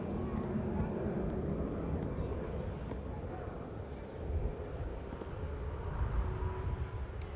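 A Singapore Airlines airliner departing Manchester Airport on a flight back to Singapore gives a steady, broad jet roar that holds for the whole stretch, swelling slightly toward the end, with a wind-buffeted rumble over the microphone.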